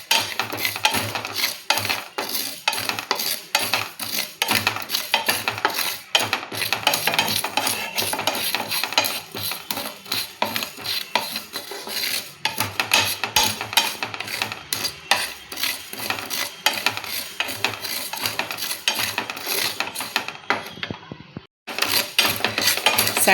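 Fenugreek seeds roasting over a low flame for a nellikai pickle are stirred in a pan. A utensil scrapes continuously and rhythmically against the metal for a long stretch, close and fairly loud, with no talking.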